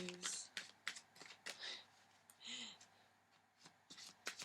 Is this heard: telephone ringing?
no